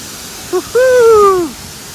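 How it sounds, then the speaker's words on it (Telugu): Gandahati waterfall in Odisha gives a steady, loud rushing roar throughout, with a brief rising and falling tonal whoop cutting across it midway. "చూసారా వాటర్ ఫాల్స్ ఎంత బాగున్నాయో"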